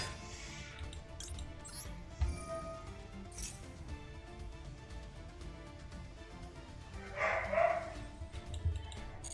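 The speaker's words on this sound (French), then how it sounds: "Il y en a encore le chien en bas qui aboie." A dog barks downstairs, heard faint and distant in sporadic yips beneath a quiet indoor room tone, with a louder bark near the end.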